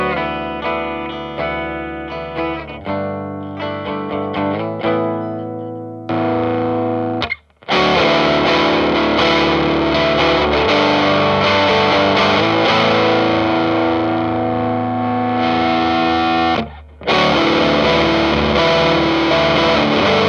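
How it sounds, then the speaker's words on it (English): Heavily distorted electric guitar through an EarthQuaker Devices White Light overdrive pedal at maximum, saturated and fuzzy shoegaze tones, playing chords that swell into a thick wall of sustained noise with brief cutouts between passages. "let's max it out and just immerse ourselves in some super saturated, grungy, shoegaze tones"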